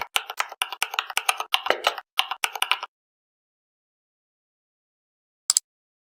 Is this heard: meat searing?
no